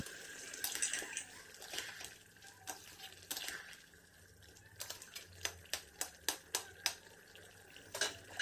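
Mutton curry being stirred in a pot after the lid comes off, a run of quick metallic clinks and scrapes of the spoon against the pot over a faint hiss, with no voices.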